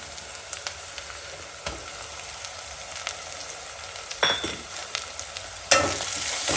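A ground masala of coconut, ginger, garlic, coriander and green chillies sautéed with onion in a pan, a steady low sizzle with occasional sharp scrapes and clatters of a stirring spoon, louder bursts toward the end, no voices.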